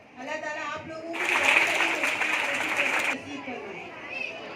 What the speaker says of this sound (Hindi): तो यहाँ पर इतने बच्चे तालियां बजा रहे हैं।